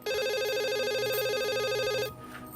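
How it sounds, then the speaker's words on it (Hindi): A landline telephone rings indoors in a home, a loud steady electronic warble for about two seconds before it stops, leaving quiet room tone. "फोन उठाओ, तुम्हारे अब्बू का फोन होगा।"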